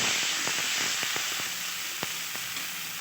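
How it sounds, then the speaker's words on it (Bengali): Turmeric and salt sizzle loudly in a spice paste being stirred and fried for a banana-flower curry, with a dense, constant hiss and several quick scraping knocks of a spatula against the pan. "হলুদ দিয়ে নেড়ে চেড়ে মশলাটা আমি আরও কিছুক্ষণ কষিয়ে নেব"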